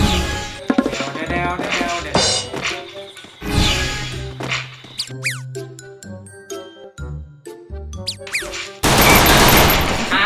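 Pistol shots and other gunfire in the mobile video game Free Fire, with sharp bursts, metallic clinks and a crash near the end.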